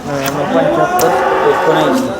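Low lowing of a buffalo at a busy buffalo market, a second-calving milk buffalo nearby, heard close among a steady crowd hum and people talking over it.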